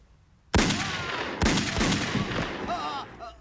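Gunshot sound effects from New Line's remix of the film Police Story, two loud sharp blasts with a long booming reverberant tail after each, followed by a faint whining ring.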